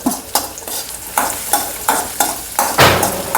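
Shallots and green chillies sizzle in hot coconut oil while being stirred, a steady frying hiss broken by rhythmic scraping strokes roughly every half second, loud and close with no talking.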